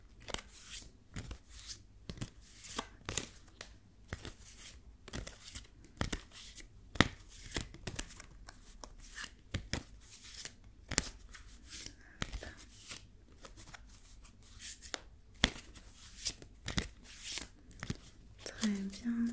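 Tarot cards are shuffled in soft ASMR fashion, giving a steady run of crisp riffling snaps and papery flicks that repeat up close at low volume.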